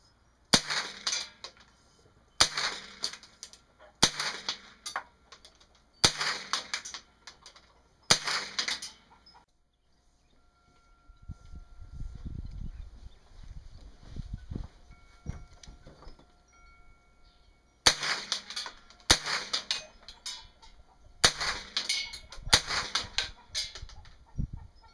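Sharp, loud gunshots from a .223 rifle fitted with a .22 conversion kit, fired outdoors in two bursts of five evenly spaced rounds, with a quieter pause between the bursts.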